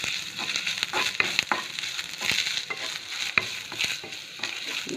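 Grated coconut fries in ghee for Chettinad Rangoon kesari, a close crackling sizzle broken by repeated scraping stirs in an uneven rhythm, with no talk.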